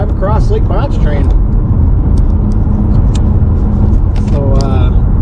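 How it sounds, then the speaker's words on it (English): A car driving across the Lake Pontchartrain Causeway near New Orleans, heard from inside as a steady, loud low rumble of engine and road noise under a person talking throughout. "I'm going to hook this up and we're just going to drive across Lake Ponchatrain"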